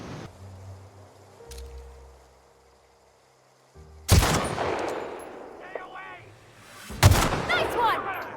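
A video game fires two loud, booming blasts several seconds apart, each one followed by a rumbling, crackling tail, after a quiet stretch of low hum.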